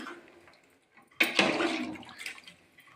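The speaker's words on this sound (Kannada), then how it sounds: "ಸ್ವಲ್ಪ ನೀರು ಹಾಕೋತಾ ಇದ್ದೀನಿ" After a quiet start, water is suddenly poured onto mutton in a pressure cooker for mutton sambar, a loud gushing splash that runs for about a second before tapering into softer trickling.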